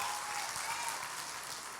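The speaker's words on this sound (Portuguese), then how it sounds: "dê o melhor aplauso e brado de vitória ao Senhor" Sustained applause from a church congregation, dense and steady throughout, with no clear cheering standing out above the clapping.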